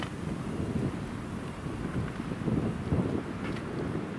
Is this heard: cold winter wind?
yes